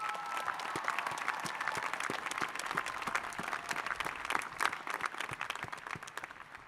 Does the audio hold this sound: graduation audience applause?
yes